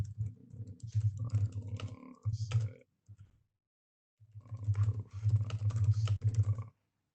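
Bursts of rapid keystrokes on a computer keyboard entering a command line, two clusters of close, dry clicking separated by a silent pause.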